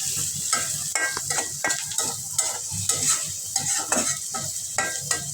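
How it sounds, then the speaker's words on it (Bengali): Onions for shrimp curry frying in a pan with turmeric added, a spoon stirring and knocking against the pan in an irregular rhythm over a steady sizzle, close and moderately loud, no talking. "এই তো আমি চিংড়ি মাছের পেঁয়াজটা বাজতে হলুদ দিয়ে দিচ্ছি"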